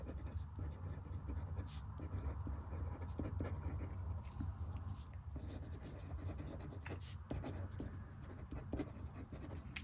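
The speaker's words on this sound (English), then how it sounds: "Even with an ordinary pen, it feels a bit nasty to write on the rough side." Ordinary pen scratching across the rough side of sulphite paper, a steady continuous writing rasp with brief pauses, close up over a constant background hum.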